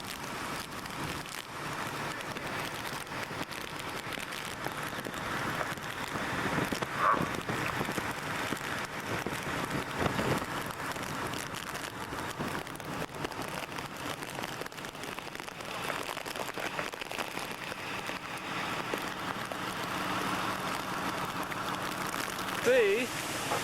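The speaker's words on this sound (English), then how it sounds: "Very windy out." Steady hurricane wind and heavy rain roar through a 1991 Hurricane Bob storm along a road with downed power lines, a continuous broadband wash with gusts, a voice talking faintly beneath.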